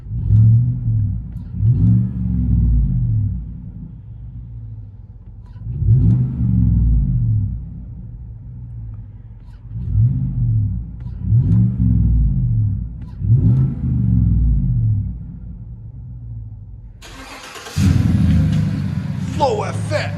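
A Chevy Silverado 5.3L V8 with a Flowmaster Flow FX exhaust, heard from inside the cab, revs about six times in a row, each deep rumbling surge rising and falling, with a louder, rougher burst near the end.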